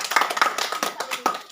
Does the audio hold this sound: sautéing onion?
no